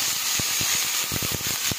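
Cauliflower and potato hit hot oil spiced with cumin, carom seeds, dried fenugreek and asafoetida, a steady close sizzle with quick crackling pops throughout.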